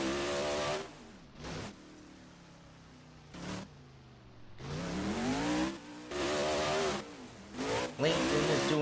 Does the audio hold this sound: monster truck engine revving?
yes